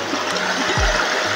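A river flowing at a forest crossing, a steady wash of moving water that stays close and even, with a few faint low knocks and a brief lower gurgling swell near the end.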